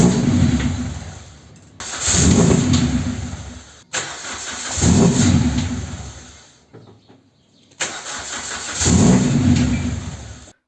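Toyota Celica engine cranked repeatedly without catching: three long bursts of starter whirring, each a couple of seconds, separated by short silences, close and fairly loud.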